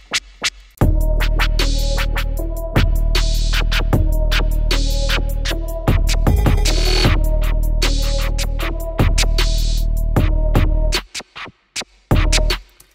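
Loud synthesized scratch sounds in a rhythmic back-and-forth pattern of long sustained bursts broken by short choppy stabs, with no talking.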